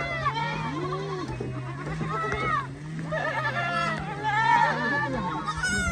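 A crowd of young goat kids bleat over and over in overlapping high cries, nearby and lively as they hurry about looking for their mothers, with a faint low hum beneath.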